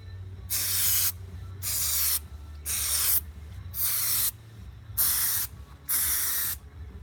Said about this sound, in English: Now I'm gonna get this silicone spray and spray them.